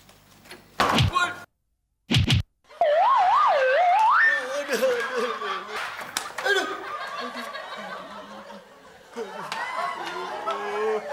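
A door shut in a sitcom scene, two sharp thuds close together, then a warbling siren-like whistle and a stretch of talking voices.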